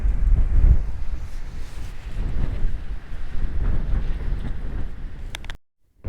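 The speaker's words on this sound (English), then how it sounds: "as windy as it is, I don't know how much you'll hear of it" Strong gusting wind buffets the microphone at a guard tower in Yuma, Arizona, a steady loud rumbling roar that swells and dips before cutting off abruptly near the end, with no speech.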